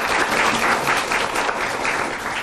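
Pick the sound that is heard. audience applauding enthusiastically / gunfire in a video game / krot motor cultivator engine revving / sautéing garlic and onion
audience applauding enthusiastically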